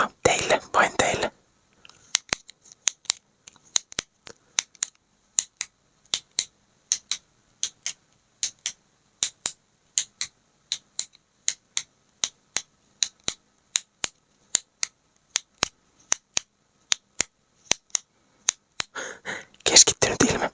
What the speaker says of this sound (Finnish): mulla on tässä tällainen kynä ja nyt testaan kynällä vähän naputtelua